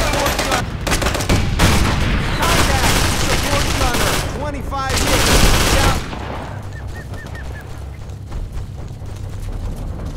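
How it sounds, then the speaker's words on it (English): Dense bursts of rapid gunfire and booming explosions from the video game Operation Flashpoint: Dragon Rising, loud and close, tapering into quieter distant shots and rumble. "gunshots feel louder, explosions sound more muffled if they're happening outside"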